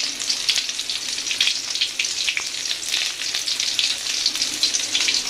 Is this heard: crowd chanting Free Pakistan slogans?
no